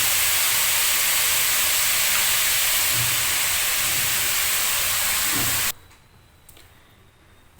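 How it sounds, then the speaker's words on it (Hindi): A steady, loud hissing and bubbling roar of milk boiling hard in a pot for carrot barfi, cutting off abruptly near the end. "दूध में भी बहुत अच्छा ये उबाल आ गया है"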